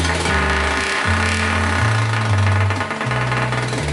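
A loud, deep race lawn mower engine with custom boom tube exhaust rumbles close by, its pitch stepping up and down as it revs and settles, with a heavy, throaty exhaust tone.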